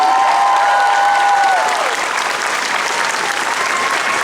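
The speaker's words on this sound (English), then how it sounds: "can we give the music people a round of applause for the music on this show?" Comic-Con panel audience for Phineas and Ferb applauding in a dense, continuous wash of clapping that fills the hall, with brief tones fading out early on.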